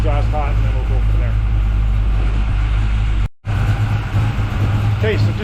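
A Camaro with a tunnel ram intake idles while the engine warms up, its steady low exhaust rumble loud and close, with a person talking over it and a brief dropout near the end.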